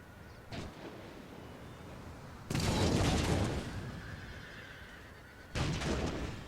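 Ship cannon volleys in a naval battle in Empire: Total War, three loud booming bursts with rumbling tails over a steady background of wind and sea ambience.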